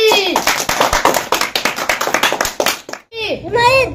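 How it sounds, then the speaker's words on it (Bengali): A group of children claps together in a quick, close, loud burst of applause, with children's voices chattering over and after the clapping. "সবাই একটা হাততালি"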